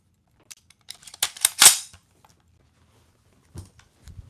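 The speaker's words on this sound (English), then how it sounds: "I'm going to do the Garand ping real quick" M1 Garand en-bloc clip ejecting from the rifle: a cluster of sharp metallic clacks and a bright ring, then quiet, with a couple of faint handling clicks afterward; no talking.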